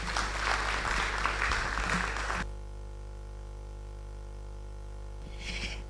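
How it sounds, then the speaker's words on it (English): Audience applause at a public lecture, a dense burst of clapping for the first couple of seconds that stops abruptly, leaving a steady hum of room noise. "Let's give him another round of applause."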